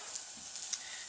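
Flank steak sizzles in a hot skillet with a faint, steady hiss and a few small pops, quiet and close with no talking.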